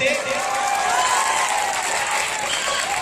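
Crowd applause at a Bhojpuri stage program, a continuous wash of clapping from a large audience with cheering voices blended through it.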